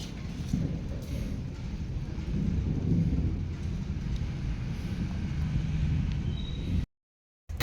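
Steady heavy rainfall in Pune roars continuously with a deep rumbling undertone like distant thunder, then cuts off abruptly near the end.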